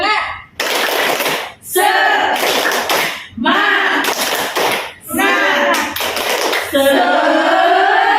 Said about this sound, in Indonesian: Oh, tepuk semangat. Oke. Tepuk semangat.